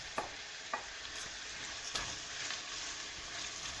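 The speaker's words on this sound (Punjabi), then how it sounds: "ਹੁਣ ਆਪਾਂ ਇਹਦੇ ਵਿੱਚ ਸ਼ਿਮਲਾ ਮਿਰਚਾਂ ਪਾ ਰਹੇ ਹਾਂ" Capsicum tossed into a pan of frying onions for a desi-style pasta, giving a steady close sizzle with a few sharp stirring clacks near the start and middle.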